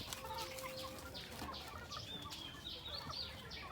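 Mixed Thai native chickens, Gum and black Phu Phan birds, give soft scattered clucks and short calls, with a brief flutter of wings. The sound is fairly quiet and there is no speech.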